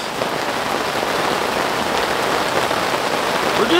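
Steady heavy rain falls at a creekside campsite on Frog Bayou, a dense, continuous hiss of drops hitting surfaces close by, with no voices.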